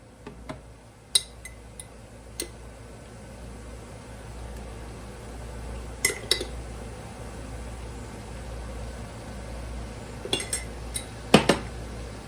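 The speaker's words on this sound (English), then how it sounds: "And stir that for a minute or 2." Utensil stirring garlic and flour in a pan, with scattered metallic clinks and scrapes against the cookware over a low steady background hum.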